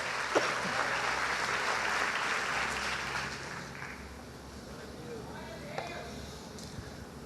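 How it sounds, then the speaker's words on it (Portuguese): A church congregation claps together in a steady, fairly distant wash of applause during a service, with voices mixed in beneath the clapping. "Pode dar uma salva de palmas aí, meu irmão?"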